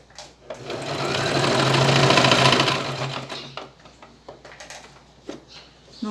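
A sewing machine stitches a small fabric hat in a fast, steady whir lasting a couple of seconds, then stops, leaving light handling clicks and rustles.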